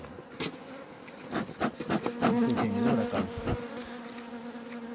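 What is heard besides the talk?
honey bees buzzing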